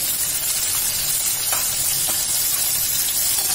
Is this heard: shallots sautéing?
yes